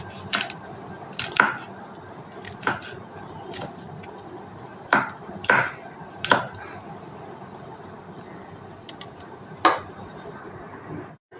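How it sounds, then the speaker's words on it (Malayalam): Green chillies being sliced into small rounds with a knife for a Kerala sadya chilli theeyal, giving scattered sharp chops on a board, a few closer together, separated by quiet pauses, with no talking. "നമ്മുടെ മുളകൊക്കെ അരിഞ്ഞ് ഇവിടെ എടുത്തിട്ടുണ്ട്."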